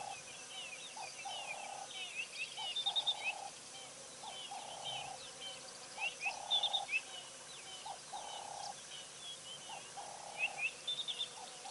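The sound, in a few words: Cape turtle doves calling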